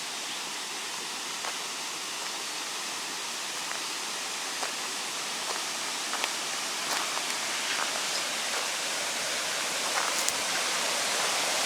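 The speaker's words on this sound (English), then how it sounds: "So as this river flows along," A river in the Santa Ana Mountains rushes steadily along, a dense, even wash of flowing water with faint splashes and drips scattered through it, close and continuous with no voices.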